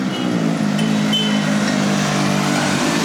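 Car traffic on a city road in Tirana, Albania, forms a loud, steady engine hum and low rumble of passing vehicles, heard up close with no talking.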